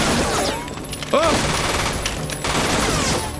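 Rapid bursts of gunfire from the film Battle Royale play over a dense soundtrack, and a man reacts with a short exclamation partway through.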